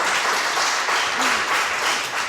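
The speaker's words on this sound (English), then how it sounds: "Give Kat a round of applause, everyone." A studio audience claps steadily in sustained applause for Kat on a 2009 teaching reality show, dense and even throughout.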